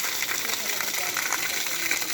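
Cold spring water in a forest gushes steadily and close by, a continuous bright rush with no talk over it.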